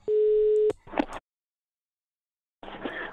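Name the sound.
Skype call ringing tone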